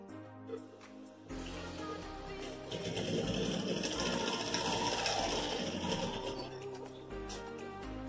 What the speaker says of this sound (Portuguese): Aí eu vou começar a costurar aqui do meio, ó.